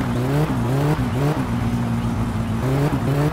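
A car in the video game Your Summer Car pulls away, its engine droning steadily and rising in pitch through a few gear shifts, loud and close with no talk over it.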